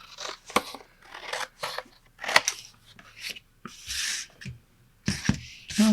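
Scissors snip through watercolor paper in a run of short, crisp cuts with brief pauses between them, close and fairly quiet, with no voices.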